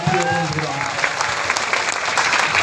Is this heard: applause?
yes